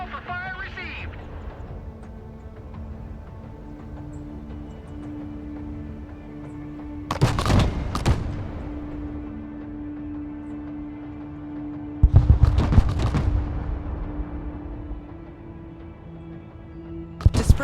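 Artillery strikes in the real-time strategy game Broken Arrow arrive as two heavy booming salvos a few seconds apart, each a burst of loud impacts over a steady low engine hum, with a radio-style voice speaking between them.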